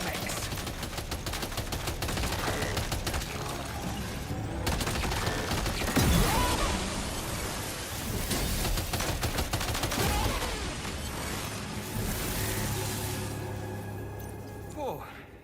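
Gunfire in the video game Death Stranding 2, bursts of shots mixed into a dense, loud game soundscape against ghost mechs, with speech-like voices present throughout.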